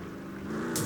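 Car engine revving under full throttle in the video game Roblox, a steady droning motor tone that swells slightly louder toward the end of a brief moment.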